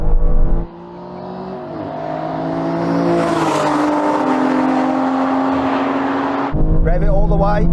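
Aston Martin cars, a Valkyrie, Vanquish and V12 Vantage, accelerate hard in a drag race, a loud sustained engine roar climbing steadily in pitch after a brief idle, then settling back to a lower rumble at the end.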